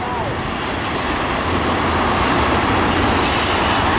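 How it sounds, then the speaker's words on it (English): A train runs along the main line, its steady heavy rumble of rail cars and wheels filling the whole clip at close range, with occasional wheel squeal and no break in the noise. "That's not a really safe train to run the main line with."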